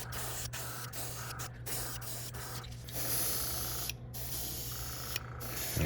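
Spray paint hisses onto a topwater popper fishing lure in several bursts, with short gaps between them and a longer, steadier spray near the end, close by and fairly loud.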